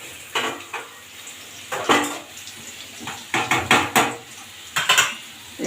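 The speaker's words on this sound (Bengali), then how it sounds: "এবার আমাদের আলু ভাজাটা হয়ে গেছে" Potatoes being fried in a pan, heard as bursts of metallic scraping and clanking of a spatula against the pan over a faint background sizzle, close and intermittent.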